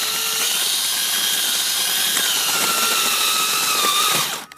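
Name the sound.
power drill carving ice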